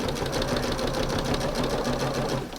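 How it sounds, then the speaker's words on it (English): A sewing machine runs continuously, adding extra stitching to fabric for a front porch redecoration, its rapid mechanical whirr and needle chatter steady and close throughout. "So let me see if I can do a little extra stitching."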